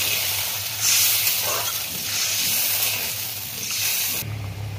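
Water poured into a hot pan of mustard hilsa curry gives a loud, steady steam hiss that swells and fades over several seconds and then cuts off abruptly near the end.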